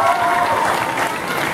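Audience applause at a talent contest: a steady wash of clapping from a crowd, continuous and fairly loud, with a voice briefly over it.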